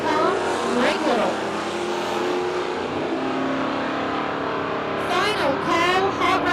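A 1968 Mercury Cougar and a 1975 Mustang race at a drag strip with loud, revving engines and roaring acceleration. An announcer talks over the cars throughout.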